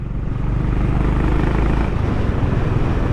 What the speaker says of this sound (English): It's a beautiful exhaust. It has its rumble thump.